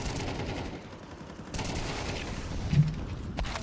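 Gunfire in the Counter-Strike video game during a competitive online match, a quick burst of rapid shots with a sharper report near the end, over a constant low background rumble of game sound.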